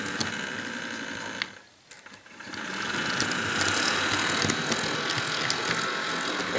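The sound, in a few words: Bachmann EMD GP38-2 model locomotive running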